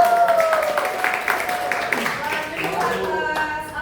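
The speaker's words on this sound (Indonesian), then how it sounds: "Tepuk tangan dong buat Santo." Elementary school class clapping for a classmate in a lesson, a short patter of hands under the teacher's voice and children's chatter.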